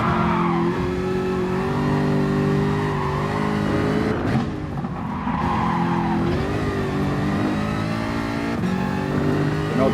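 A Jaguar Gr3 race car in a racing game at the Nordschleife drones steadily at high revs, engine pitch rising and dipping through gear changes and corners with brief tire squeal, loud and continuous.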